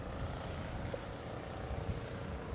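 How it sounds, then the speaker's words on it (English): Snow blowers run outside on a snowy, windy Chicago day, making a steady, distant engine drone blended with wind roar, unbroken and fairly even throughout. "The snow blowers have been blowing all day."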